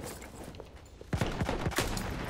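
Gunfire rattles in a Battlefield 1 multiplayer match: after a quieter opening, a rapid burst of loud, close shots crackles in quick succession over the constant battlefield din.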